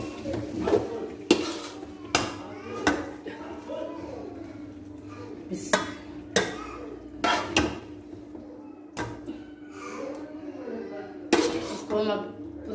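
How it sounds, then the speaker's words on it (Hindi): A spoon stirs spices into boiled macaroni in a metal pot, giving intermittent metallic clinks and scrapes against the pot while a person talks between the bursts. "देखिए मैंने इसको मिक्स कर लिया मसाला डाल के पूरा"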